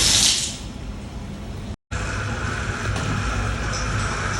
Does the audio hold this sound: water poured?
yes